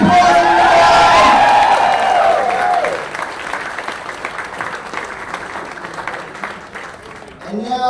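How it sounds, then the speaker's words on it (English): Applause from wedding reception guests for the couple, a loud burst of clapping and cheering that peaks early then thins into lighter, scattered clapping, with voices mixed in. "Let's give them another big round of applause."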